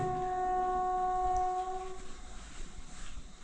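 A passing train sounds a steady, tonal horn for about two seconds before it fades into a low, rumbling wash of rail noise, heard alone at moderate distance.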